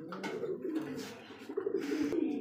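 Pigeons coo at a pigeon farm, a steady low murmuring chorus of several birds close by, with soft throaty rolls repeating throughout and no talk.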